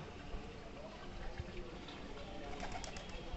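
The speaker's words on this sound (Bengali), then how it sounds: "ওই যে দেখেন সব কবুতর এখন মাঠের দিকে যাচ্ছে" Flock pigeons head out toward a field, with faint, distant cooing and light wing flutters over a quiet outdoor background.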